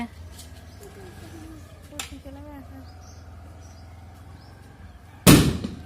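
A sharp, loud firecracker bang near the end, after quiet ambience with soft cooing birds and faint voices.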